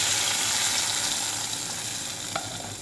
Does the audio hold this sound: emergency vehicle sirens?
no